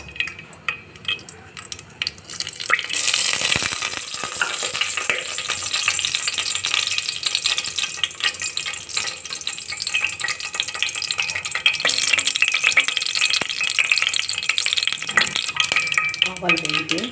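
Mustard and fenugreek seeds sizzle and crackle steadily in hot oil in a steel pot over a medium flame. A few metal stirring scrapes and clinks come through near the end.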